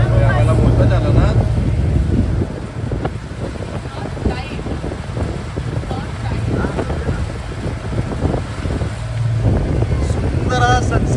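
A boat ride on the water near Tapola, with a constant engine drone and wind buffeting the microphone, while people talk over the noise.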